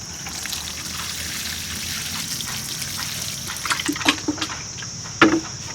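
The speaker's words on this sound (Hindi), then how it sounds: "अब मैं इसमें पानी डाल दूंगी।" Water poured from a small container into a plant pot filled with soil during Dieffenbachia propagation, a soft trickle over a steady background hiss, ending in a few louder splashing gurgles near the end.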